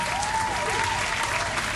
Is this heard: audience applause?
yes